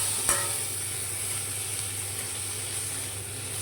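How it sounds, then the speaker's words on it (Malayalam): Chopped tomatoes and pepper sauté in a hot pan for a prawn curry, giving a steady close sizzle and hiss, with a sharp clink from the spoon near the start. "കുരുമുളക് എടുത്ത് വെച്ചിരിക്കുന്ന തക്കാളി ഒരു രണ്ട് തക്കാളി അതിലേക്ക് ഇട്ട് കൊടുത്ത് ഇതുപോലെ ഒന്ന് വഴറ്റിയെടുക്കുക"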